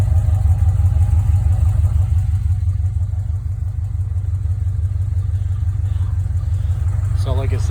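A car engine with true dual exhaust rumbles steadily with a deep, throaty note, idling loud and close throughout, with a faint higher sound near the end.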